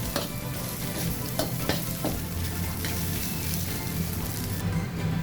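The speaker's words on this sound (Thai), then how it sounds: "จากนั้นใส่ข้าวลงไปครับ ผัดให้คลุกเขาใเข้ากันครับผม" Rice is stir-fried with red shrimp curry paste in a hot pan, giving a steady, dense sizzle and the repeated scrape of a spatula tossing the grains; close and continuous, with no talking.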